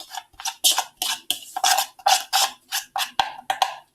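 Ingredients for macaroni and cheese are stirred in a bowl, a utensil clinking and scraping in a quick, steady rhythm of short strokes, close and fairly loud with no voices.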